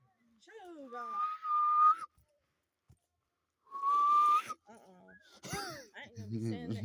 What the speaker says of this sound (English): I ain't gonna be standing next to you if you're gonna be whistling.